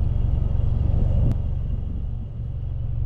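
A Mitsubishi Evo X idles in traffic with a deep, steady low rumble heard from inside the car, loudest at first, then easing slightly, with a brief click partway through.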